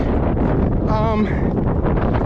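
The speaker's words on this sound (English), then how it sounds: "It's windy and rainy, and we're in the clouds" Loud, constant wind roaring and buffeting against the microphone on a mountaintop above the tree line in the White Mountains, New Hampshire, amid rain and cloud, with a brief muffled voice partway through.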